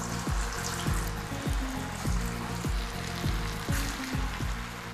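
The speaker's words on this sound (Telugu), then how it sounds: "నూనె కాగిపోయింది అంజలి, మనం పెసర బొండాలు వేసుకుందాం" Moong dal bondas fry in hot oil, a soft steady bubbling sizzle that runs beneath a looping, rhythmic background music track.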